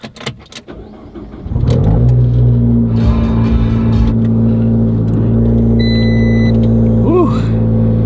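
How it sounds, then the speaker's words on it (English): A Fiat 500 Abarth starts from cold, recorded from inside the cabin: a short crank catches at about 1.5 seconds, then the engine settles into a loud, steady high idle that holds to the end. "So here's a cold start from the interior of the Abarth."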